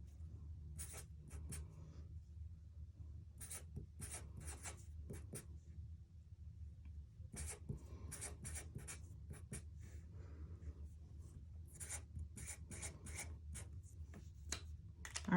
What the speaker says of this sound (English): let me write it out here.